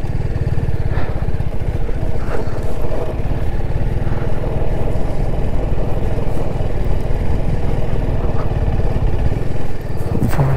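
A motorcycle rides off-road on a rough track near Pangong Lake, its engine rumbling steadily and loudly up close with clattering and wind noise, no voices.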